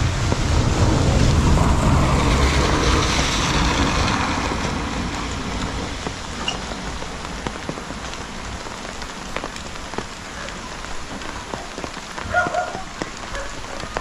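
Light rain falls steadily on a surface at a worksite, a dense continuous patter that is louder at first and then settles to a softer, even hiss with scattered individual drops.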